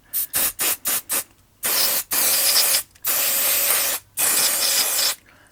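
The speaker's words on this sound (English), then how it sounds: "This is the switch cleaner that I normally use." Switch cleaner hisses from an aerosol can onto GT Tempest brake parts in several bursts, first five quick short sprays and then three longer ones, loud and close.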